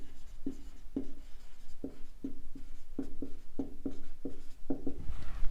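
A pen or marker writes out a word on a board in a rhythmic series of short scratchy strokes, close and clear, with small pauses between letters.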